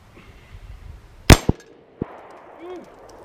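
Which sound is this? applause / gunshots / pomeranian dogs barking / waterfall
gunshots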